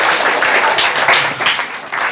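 A church congregation applauds the keyboard players during a service, steady dense clapping filling the short stretch without a break, fairly loud and close.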